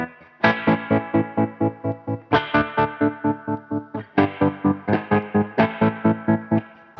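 Electric guitar chords through a Dophix Galileo optical tremolo pedal, pulsing rapidly in a steady tremolo chop, loud and close, strummed in several bursts with brief gaps between them.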